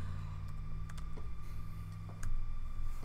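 Typing on a computer keyboard: sparse, soft key clicks spaced irregularly over a steady low hum, fairly close and quiet.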